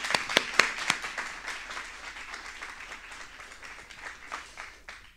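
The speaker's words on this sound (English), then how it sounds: "So an applause for now." Audience applause closing a festival talks panel: a few sharp, close claps open it, then dense, steady clapping fills the rest at a moderate level with no voices over it.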